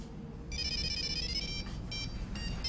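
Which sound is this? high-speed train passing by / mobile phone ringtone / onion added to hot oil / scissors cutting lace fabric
mobile phone ringtone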